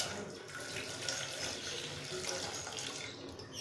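Two cups of previously boiled milk are poured into a container while making karak chai, giving a soft, steady, continuous liquid pour that runs throughout at low volume.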